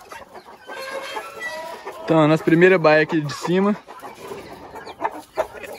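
Free-range caipira rooster and hens at a farm pen, clucking and calling in short bursts close by, with someone talking over them throughout.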